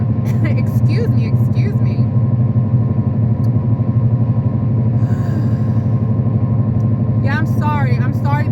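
An old, low-budget car droning steadily from inside as it drives, a constant low engine and road rumble with brief voices talking over it near the start and end.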